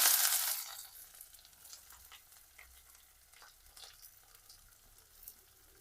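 Onions go into hot coconut oil where mustard seeds have already popped, setting off a sharp burst of sizzling that quickly settles into a steady, quieter crackle and spatter close by.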